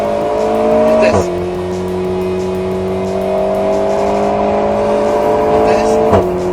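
An Alpine A110 S sports car engine roars steadily at high revs on a race track, pitch climbing through gears with brief dips at each shift, loud and close.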